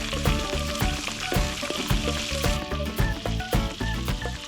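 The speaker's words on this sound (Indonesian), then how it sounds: "Biar makin enak si ikan pedak emak mau goreng dulu sebentar." Salted pedak fish sizzles and crackles steadily in hot frying oil, close and loud, a dense continuous spatter with scattered sharper pops and no speech.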